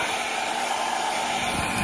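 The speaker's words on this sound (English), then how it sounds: "again with my blow dryer, like I said, I use my hair dryer for more than just drying my hair" A hair dryer blows steadily on a low setting, drying freshly cleaned brushes, a constant close whooshing hum with no voices.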